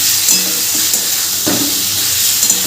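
Spice masala for a green jackfruit curry is stir-fried in a pan, with a loud, constant hissing sizzle and occasional scrapes of a spatula, close up and without talk.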